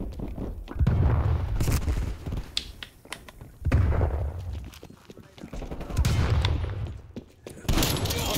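Sniper rifle and other gunfire in a Black Ops Cold War match on Nuketown, several sharp cracks and booming reports spread across a noisy battle mix, moderately loud.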